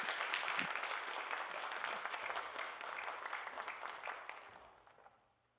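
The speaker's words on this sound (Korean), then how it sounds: "나오실 때 우리 큰 박수로 축복하겠습니다." A church congregation in a worship service claps warmly to welcome a preacher, brisk crowded applause that holds steady and then fades out near the end.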